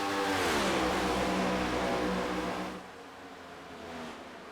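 Racing game cars at a Chicagoland oval event scream past in a dense pack of engine whine, loud for nearly three seconds before falling away to a fainter, distant drone.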